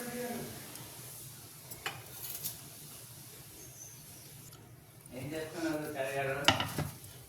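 A spoon stirs and mixes grated carrot and green chillies frying in a pan, with soft scraping and gentle sizzling, faint and intermittent, and a louder clatter of utensils near the end, where a voice briefly speaks.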